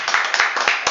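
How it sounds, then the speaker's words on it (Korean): A short burst of classroom clapping during a middle-school science lesson, brisk and close, lasting about a second. "우리 박수 한번 치고 가자"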